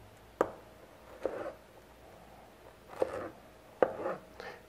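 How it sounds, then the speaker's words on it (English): A knife cuts pineapple into smaller pieces with four sharp, separate chops on a board, close and fairly quiet, spaced irregularly against a quiet kitchen background with no talking. "you're going to have to cut them into smaller bits, smaller pieces, so we'll do that now"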